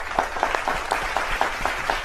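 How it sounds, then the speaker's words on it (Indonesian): A studio audience on a talk show applauds Pak Hadi Purnomo with steady, fairly loud clapping. A few sharp, evenly spaced claps stand out above the crowd's patter. "mari kita beri tepuk tangan kepada Pak Hadi Purnomo"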